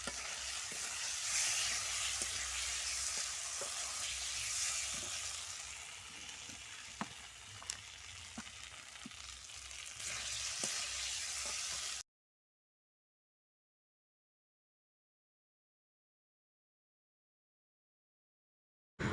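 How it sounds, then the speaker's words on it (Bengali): Curry simmering and frying in a pan over a village kitchen fire, a steady close sizzling hiss with faint stirring clicks, running for about twelve seconds and then cutting to silence. "ওদিকে তরকারিটা ফুটছে"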